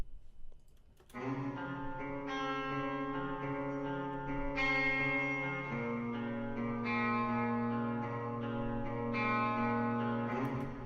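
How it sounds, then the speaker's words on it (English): Sustained synth-like chords washed in a long, lush plate reverb with a two-second reverb time, each change trailing off into a smooth, echoing tail. "that's where all that echoey reverb's coming from"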